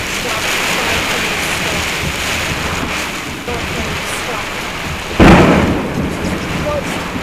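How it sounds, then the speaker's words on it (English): Heavy rain drums steadily at Fairview Riverside State Park, Louisiana, with wind buffeting the microphone, then a sudden loud thunder crack bursts close by and rumbles on under the downpour. "that crack of lightning and thunder sounded like it was right on top of us"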